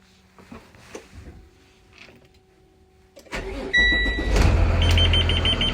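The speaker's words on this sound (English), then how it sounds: "Now I'm going to start the engine" A Thomas Saf-T-Liner EFX school bus engine is started while in neutral: quiet shuffling, then a starter whine from about 3.3 seconds and a loud, steady diesel idle rumble that builds and holds to the end.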